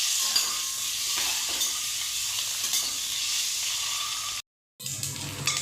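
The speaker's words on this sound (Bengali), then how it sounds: "ডিম ভাজা হয়ে গেছে, এখন নামিয়ে নেব।" Eggs fry in hot oil with a continuous close sizzle and occasional stirring clicks, briefly cutting to silence near the end before the hiss resumes.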